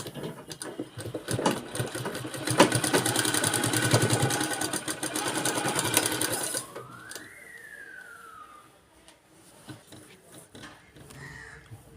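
A sewing machine runs in a steady, rapid whirring stitch along a fabric edge for several seconds, then stops, leaving quieter background sounds and a faint rising tone.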